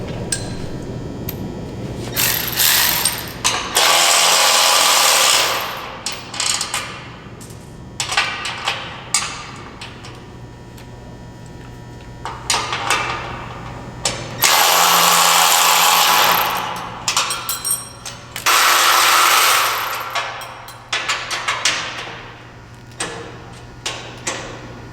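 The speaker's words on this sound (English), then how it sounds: "You're going to want to go ahead and remove the bolts on one side of your table" A power tool removes bolts from one side of a CNC machine table during expansion kit setup, running in several bursts of a few seconds each, separated by clicks and handling noises, with no talking.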